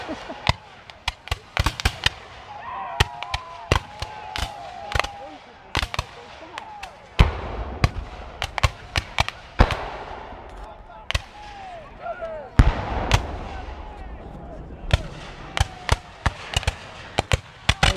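Musket volleys crack out at a Battle of the Wilderness reenactment in Zoar in 2019, with dozens of sharp shots scattered across the scene, some close and loud and others more distant, and people talking now and then between them.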